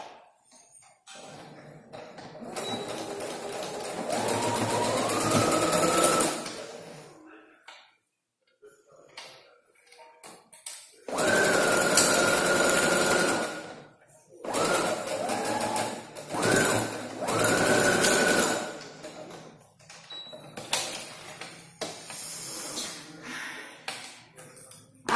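Sewing machine stitching a multifunction wallet, several bursts of rapid steady mechanical whirring separated by short pauses, close and loud, with no talking over it.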